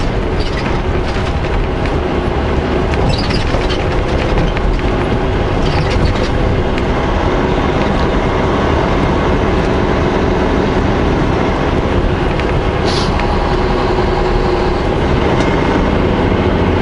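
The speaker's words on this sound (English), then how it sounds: "There's an old locomotive. They use it here for shuffling around train cars." Steady rumble of an old locomotive shunting train cars on rails, with continuous clattering of cars and occasional metallic squeals, loud and close throughout.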